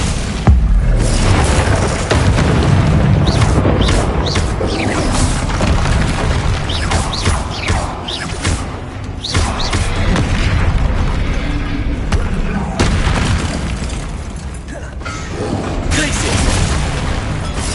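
Heavy booming blasts from the Bombarda explosion spell in Hogwarts Legacy roll out repeatedly amid constant game noise, loud and close, with crashes and debris between bursts and a voice shouting over them.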